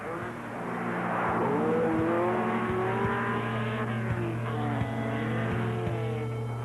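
An Alpine-Renault Berlinette rally car drives on a frozen lake in Sweden during testing, its engine revving loudly and continuously up close as it slides across the ice.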